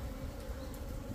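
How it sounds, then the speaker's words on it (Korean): Close, continuous buzzing of several small black hornets trapped in a double mesh net at an apiary, a steady droning hum without pauses. "이렇게 말벌들이 못 빠져나오고 안에 갇혀 버리는 거죠"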